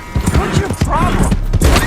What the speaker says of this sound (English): So there's Arthur stealing some guy's horse